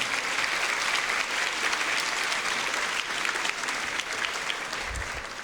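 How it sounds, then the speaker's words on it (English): A gala audience gives a dense, continuous round of applause, many hands clapping at an even level throughout, with a brief low thump near the end. "So a round of applause for all the community involvement."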